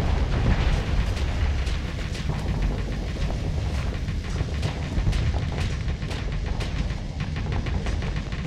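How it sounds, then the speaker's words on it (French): Ship cannons firing during a space battle in the Starsector game, a steady, dense roar of rapid repeated blasts and rumble lasting throughout, loud and continuous. "il fait un drôle de bruit son canon"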